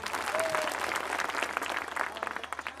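A crowd at a picnic gathering applauds a guest speaker, a short round of many clapping hands, fairly soft and even, with a few voices faintly underneath.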